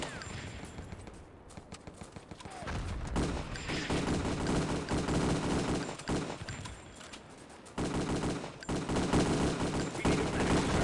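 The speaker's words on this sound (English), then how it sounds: "That's so much gunfire on that ramp." Dense, rapid bursts of automatic gunfire and explosions in the video game Wolfenstein: Enemy Territory, loud and nearly continuous, with brief lulls between volleys.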